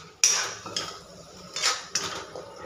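Potatoes for puri bhaji are stirred in a metal pan with a few sharp scrapes and clanks of a spoon against the pan, separated by short pauses. No speech is heard.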